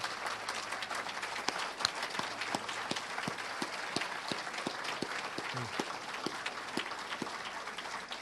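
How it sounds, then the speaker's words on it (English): A room of event attendees applauds steadily for two honorees and their families, a dense, even wash of clapping with individual claps standing out, sustained and moderately distant throughout. "let's give them a big round of applause"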